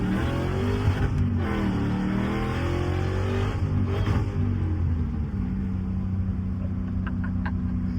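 A 4.6 3-valve Mustang accelerates loudly, its engine note rising, then breaking off and dropping at a missed gear shift before it settles to a lower rumble.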